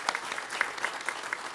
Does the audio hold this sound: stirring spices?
no